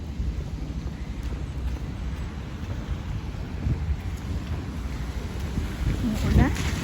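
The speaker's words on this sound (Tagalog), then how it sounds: "It's raining hard and it's 7:35." Heavy rain pours steadily outdoors near a hospital building site, a continuous broadband hiss with low wind rumble and a brief louder splash near the end; no voices stand out.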